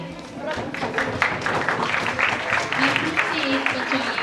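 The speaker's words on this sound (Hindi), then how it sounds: "तालियां बजाते रहिए" An audience applauds at a children's parliament event, a steady, dense wash of clapping that fills the room, with voices mixed in beneath it throughout.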